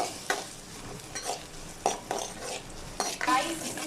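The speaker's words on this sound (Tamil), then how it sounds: "நல்லா வந்துட்டு வெங்காயம் பொன்னீரமாக வர அளவுக்கு வதக்கிக்கலாம்" Shallots and onions sautéing in a pan, stirred with a utensil: soft, close sizzling under repeated light scrapes and taps against the pan.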